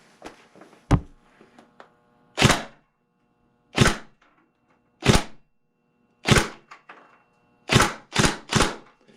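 A Tokyo Marui SCAR-H Recoil Shock airsoft rifle fires on semi-auto, with about eight sharp, close shots at uneven intervals, two of them fired in quick succession near the end. No voices are heard between the shots.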